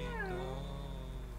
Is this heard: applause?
no